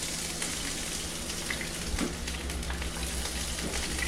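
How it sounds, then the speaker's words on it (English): Hot oil spatters and sizzles steadily while pork ribs fry over a high flame, giving a dense crackling hiss with small pops scattered throughout. "That's the other reason for the oil to be popping too, is because the fire be up high."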